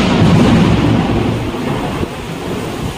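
Thunder rolls through a heavy rainstorm, a deep sustained rumble over the hiss of steady rain, loud and close at first and then settling lower.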